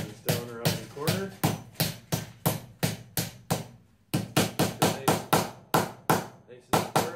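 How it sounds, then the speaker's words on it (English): Rapid hammer blows strike down around a corner, around twenty loud, close impacts in a steady rhythm with a brief pause midway. "Hammer this down around the corner."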